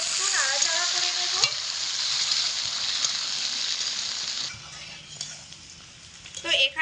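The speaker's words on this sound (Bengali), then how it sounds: "এবার পেঁয়াজের মধ্যে আলু আর শিম একসঙ্গে দিয়ে দিলাম, ভালো করে একটু নাড়াচাড়া করে নেব।" Potatoes and flat beans frying with onions in a pan while being stirred, a bright continuous sizzle with spatula scrapes, close up, fading quieter near the end with a few clinks.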